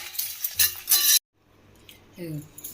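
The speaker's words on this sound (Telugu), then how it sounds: "ఇవన్నీ ఇలా రోస్ట్ చేసుకోవాలి" Curry leaves and flaxseeds dry roasting in a pan, with a spatula stirring and scraping in bursts against the metal, then a brief pause and quieter clinks.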